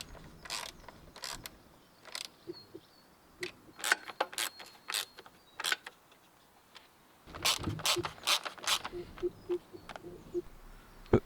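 A ratchet tightens the four radiator bolts back into a BMW E60 M5, its clicking pawl ticking in quick close runs of strokes, separated by brief pauses and handling noise.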